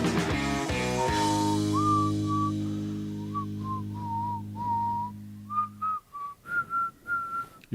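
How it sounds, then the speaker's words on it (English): A person whistles a wavering tune close to the microphone, first over a low steady hum, then in short bursts alone. "You're whistling on the mic"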